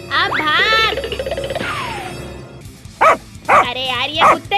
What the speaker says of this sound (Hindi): अरे यार, ये कुत्ते क्यों हमारे पीछे पड़े हैं?